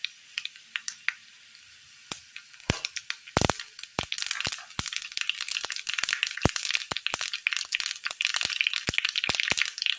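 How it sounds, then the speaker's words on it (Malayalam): Urad dal and mustard seeds popping in well-heated oil: sparse sharp cracks at first, then rapid, irregular crackling and spitting that builds into a dense, close sizzle, with no voices. "നല്ലതുപോലെ ചൂടായ എണ്ണയിലേക്ക് ഉഴുന്ന് പരിപ്പ്,"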